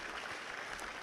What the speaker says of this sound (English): So let's give them some applause for that.